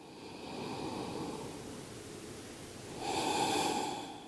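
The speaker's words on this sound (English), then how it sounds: "Let's go for 2 more breaths" Slow, deep breathing in a yoga pose, a long soft exhale followed by a louder, rushing breath near the mic, with no talking.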